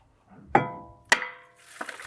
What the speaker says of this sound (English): give it a decent whack